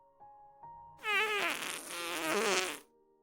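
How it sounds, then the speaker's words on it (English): A cartoonish fart sound effect, one long wobbling, buzzy blast lasting about two seconds after a few soft tones, close and fairly loud. "you've got a fart."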